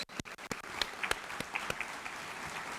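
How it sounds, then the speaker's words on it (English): A small crowd claps at a Hall of Fame induction ceremony, starting with a few sharp, separate claps that quickly fill out into moderately quiet, steady applause. "give them a round of applause if you would"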